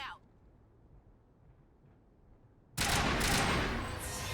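A sudden burst of rapid, loud gunfire erupts in a shooter video game after a near-silent stretch and keeps firing to the end.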